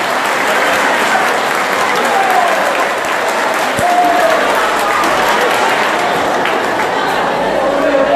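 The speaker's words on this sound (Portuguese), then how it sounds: "Uma salva de palmas para as cozinheiras." Crowd at a Folia de Reis parish feast gives the cooks a long, loud round of applause, dense and steady from start to end with some chatter beneath.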